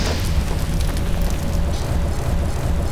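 A chain explosion in the shooter Half-Life 2 produces a loud, sustained roar of booming blasts and crackling debris that rumbles on without pause.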